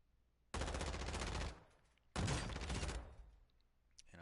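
Two long bursts of rapid automatic gunfire ring out from a gun in Call of Duty DMZ, each lasting about a second, loud and close, separated by a short pause, with no talking.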